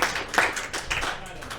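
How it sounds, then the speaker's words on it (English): A studio audience claps after an acoustic music set on a late-night talk show, a short burst of dense, close applause with sharp individual hand claps that stays fairly even before tapering slightly. "That was another round of applause, absolutely."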